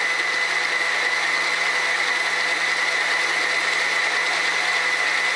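A stand mixer kneading savarin dough at high speed, a steady, even motor whir with a constant high hum and faint mechanical rattle, close and unbroken, no voices.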